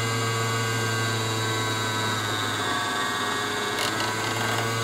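A Baratza Vario coffee grinder runs steadily during calibration, a constant motorized hum with grinding noise, close and alone, with a slight shift in tone near the end.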